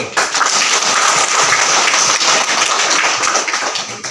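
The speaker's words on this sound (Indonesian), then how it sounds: "Kita beri aplaus untuk Regu B." Steady clapping from an audience at a primary school quick-answer quiz contest in Fatuneno, a dense, even burst of applause lasting about four seconds.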